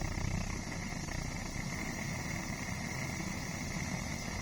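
A Motor Sich 2L blowtorch on its first start, a steady close roar with a low rumbling flutter that holds even and continuous throughout, no voices.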